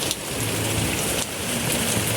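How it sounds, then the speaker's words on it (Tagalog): Heavy rain pours down steadily in a dense, continuous hiss, loud and close, with no voices. "Yun na malakas ang ulan."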